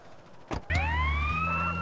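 Ambulance siren in Grand Theft Auto San Andreas starts after a short burst of noise, with a rising wail that then holds a loud, steady tone alongside a low engine rumble. No voices.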